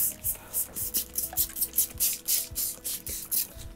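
A handheld spray bottle mists water onto a paper towel laid over a painted stencil, about a dozen quick evenly spaced hissing squirts close by, each short and sharp.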